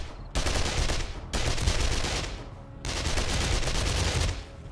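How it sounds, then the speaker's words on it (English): SMG and Desert Vulture fire at zombies in a video game, three long, loud bursts of rapid automatic shots separated by brief pauses, close and unbroken by speech. "the effective range on the SMG and the Desert Vulture is long enough to reach the zombies even in the back of the line"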